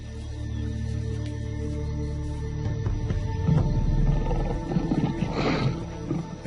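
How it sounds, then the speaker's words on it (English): A wild lion roars in the open bush where wild dogs hunt, a deep rumbling call rising out of steady ambient noise and building over several seconds at moderate distance. "the lion appears to have no interest in hunting, impala or dog"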